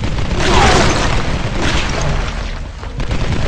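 A wall is blown apart by an explosion in the Tomb Raider reboot game, heard as a loud, sustained rumbling boom with crumbling debris that stays heavy throughout.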